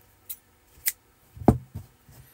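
Scissors snip a crochet yarn tail, a few short, sharp clicks spaced unevenly, the loudest near the middle and softer ones before and after, with no voices.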